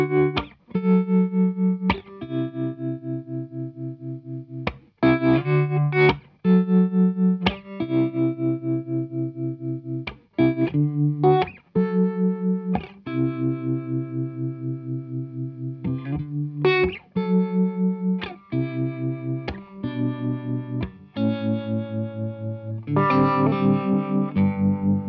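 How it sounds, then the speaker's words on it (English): Electric guitar through a Walrus Audio Monument all-analog harmonic tremolo pedal: sparse strummed chords and single notes with a pulsing, wavering volume, each phrase ringing out and separated by short pauses, with no one talking. "The Monument is all analog, signal path, tap tempo, tremolo, as well as harmonic tremolo."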